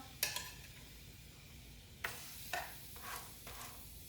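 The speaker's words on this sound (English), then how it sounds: "hear that sizzle" A faint sizzle of pork chops frying in a pan, with a few soft clinks and scrapes of utensils over a steady low hiss.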